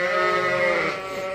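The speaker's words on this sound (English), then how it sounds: "That's as Ruth feeds more and more of the sheep, the quieter they'll get." Several sheep bleat together on a farm as they are fed, a loud, dense chorus of overlapping calls from close by that eases off slightly toward the end.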